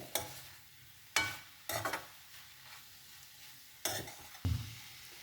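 Banana flower vegetable with fresh coconut cooking in a pan on a gas stove, with a few separate bursts of stirring and scraping against a soft sizzle, close and without speech.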